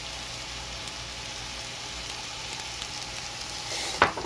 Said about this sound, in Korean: 참기름을 좀 더 치겠습니다